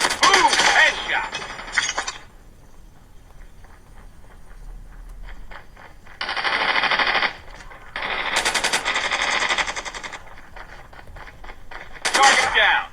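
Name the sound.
gunfire in video game Call of Duty Mobile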